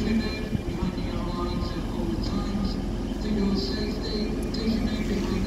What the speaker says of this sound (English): Trans-Pennine Express arriving here at Doncaster.